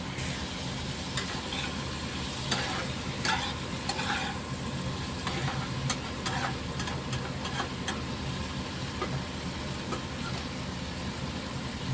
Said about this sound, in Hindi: देखिए, दोनों साइड से प्रॉन धीरे धीरे फ्राई होता दिख रहा है